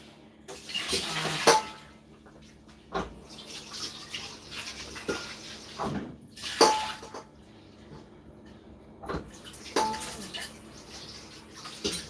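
Wet food being squeezed by hand to press out water, heard as intermittent close splashes and dripping bursts separated by quieter stretches, with faint kitchen sounds between.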